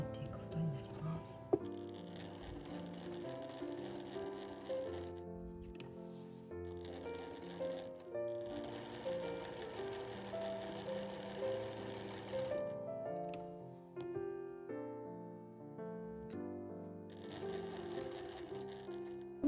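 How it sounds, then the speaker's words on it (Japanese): A sewing machine stitches tote bag fabric in steady rattling runs with brief pauses between passes, close by, while someone talks over it. "これだと最初にこのグレーの部分を隠したいので、グレーの部分から縫っていくことになります。"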